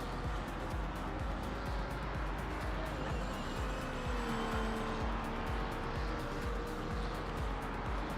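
A car engine drones steadily through a racing video game, with squealing tires and skids rising and falling over continuous motor noise at moderate level.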